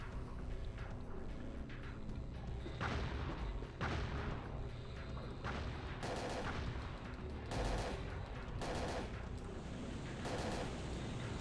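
Rifle gunfire in the video game Parasite Eve II, with several sharp bursts of shots over a dense, constant game soundtrack and effects, repeating at irregular intervals.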